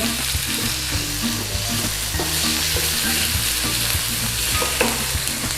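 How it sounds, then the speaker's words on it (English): Pork liver and peppers stir-frying in a pan with a coriander mix make a loud, continuous sizzle, with spatula scrapes and stirring knocks throughout, close up and without speech. "give that a little stir in there. And then straight in with our liver"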